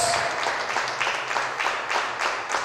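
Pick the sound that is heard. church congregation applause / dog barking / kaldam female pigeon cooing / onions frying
church congregation applause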